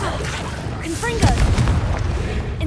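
Confringo blasting spell from Hogwarts Legacy, a loud booming burst with crackling debris amid continuous game ambience and spell effects.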